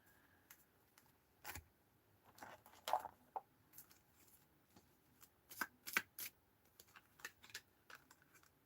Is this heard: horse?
no